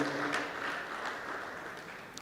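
Audience at a university town hall meeting claps for the vice chancellor, a moderate, fairly distant wash of applause that holds steady and slowly fades.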